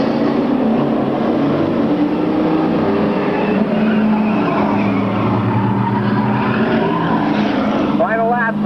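Stock cars, including a Ford Thunderbird, race bumper to bumper in a continuous loud roar of engines, with a brief tire squeal near the end and an announcer's voice talking over it.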